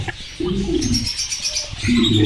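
Young Java sparrows kept in cages on a farm, with short chirps and tweets over low cooing and rustle, close and fairly loud across the brief moment, no talking.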